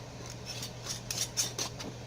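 Lids being screwed onto jars of homemade cranberry sauce, a few short scraping clicks and twists over a low steady hum, close and fairly quiet.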